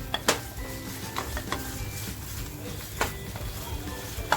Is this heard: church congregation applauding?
no